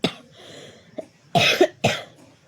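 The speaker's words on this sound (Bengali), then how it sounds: "এত কাশি হচ্ছে, এত কাশি হচ্ছে" A person coughs close up, a sharp cough at the start followed by a small throat sound and then two heavier, harsh coughs spaced a moment apart, alone without talk.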